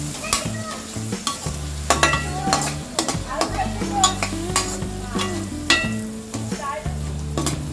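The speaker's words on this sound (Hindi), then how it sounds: "अनियंस फ्राई हो गए हैं।" Onions sizzle steadily in a hot pan for a Maharashtrian-style methi sabzi, with repeated spoon stirs scraping through the oil; the frying is close and fairly loud, and no one speaks.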